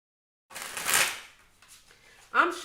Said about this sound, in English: I'm shuffling my cards here.